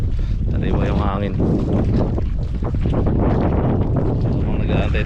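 Strong wind blowing across a boat at sea off La Union, a loud continuous rush and mic buffeting, with a person talking over it partway through.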